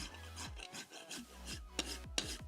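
A rasp scrapes a horse's hoof wall to clean it before an aluminium shoe is bonded on, a close series of rough, even filing strokes in a steady back-and-forth rhythm, with no talking.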